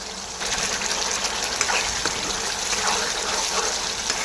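A little water splashes into a hot pan of masala before prawns go in for an old-style Bengali prawn curry. It is a close, steady gushing pour that starts after a brief pause and keeps running.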